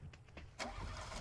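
A car engine starts up in the battle royale game PUBG: a few faint clicks, then a sudden loud catch into a rough idle that carries on at a steady level.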